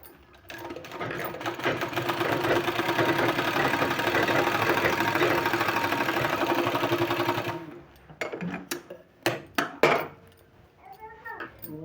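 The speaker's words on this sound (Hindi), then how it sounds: "इस सारे निशान में सिलाई लगा देना है इस तरह से।" A sewing machine stitches a decorative sleeve design in a long, steady, rapid mechanical whir for several seconds, then stops, followed by a few short bursts of handling and clicks.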